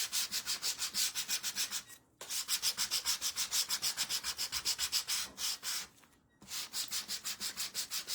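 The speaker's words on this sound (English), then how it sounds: "I'm going to sand them together" Two craft pieces sanded together by hand in quick, rhythmic back-and-forth rubbing strokes, close and quiet, broken by two short pauses.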